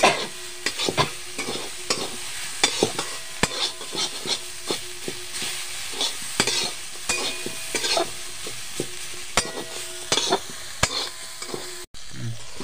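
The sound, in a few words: spices roasting in a pan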